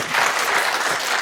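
An audience applauds a presenter named Steve at an investor pitch event, a steady, dense wash of clapping held at an even level throughout, fairly close.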